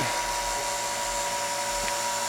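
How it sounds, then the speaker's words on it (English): A vacuum chamber pump runs with a steady, even hum and hiss while drawing air out of a mold mix, moderately loud and unbroken, with no voices. "now we got it in our vacuum chamber, so we're going to vacuum the air out of it."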